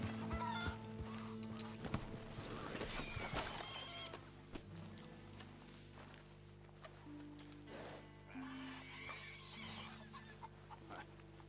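Chickens cluck in Red Dead Redemption among the game's ambient sounds, with horse hooves and faint in-game noise. The clucking is soft and intermittent over a low hum, with no talking.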